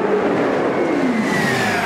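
Outlaw Pro Mod drag racing cars roar down the strip at a drag race, a loud, sustained engine blast with a pitch sweeping downward as they pull away, no talk over it.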